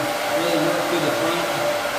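A hair dryer whirs with a steady, close, loud blowing hum while blow drying a short layered bob haircut, with no talk over it.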